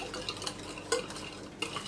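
A spoon clinks and taps lightly against a bowl while yogurt and garlic sauce is whisked, a few quiet, irregular strokes close by.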